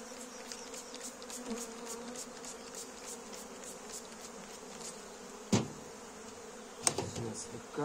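A hive of honeybees being worked in early April gives off a continuous close buzz, broken by two sharp knocks of frame or tool handling toward the end.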